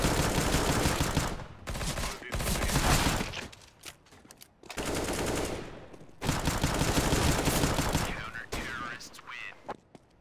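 Five-SeveN pistol fire in CS:GO crackles in fast strings of shots separated by short pauses, loud and near, with quieter gaps between volleys.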